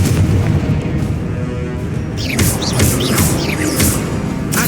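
Confringo spell explosions in the video game Hogwarts Legacy, several loud booming bursts in quick succession over dense, continuous combat noise.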